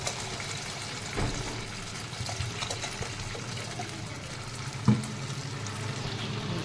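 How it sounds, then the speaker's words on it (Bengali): Sizzling gravy in a pan, with a steady bubbling fry that runs close and continuous and one brief louder splash or clatter near the end. "এইবার আমি জল দিয়ে দেবো অল্প।"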